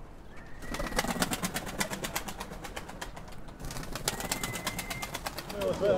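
Pet pigeons coo softly in a loft amid rustling and a rapid rhythmic fluttering, with faint background noise and a possible distant engine.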